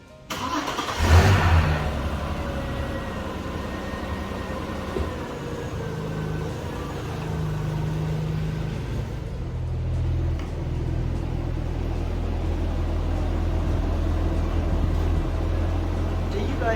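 An Audi A4 convertible starts up and pulls away, with a brief loud burst near the start followed by a steady mid-pitched engine hum and rising revs, near and continuous.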